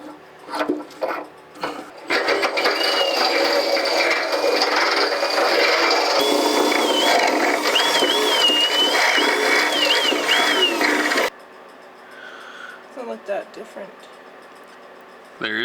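Power drill whirring steadily for several seconds while working on a steel boat during restoration, loud and close, with brief talk and handling noises before and after the run.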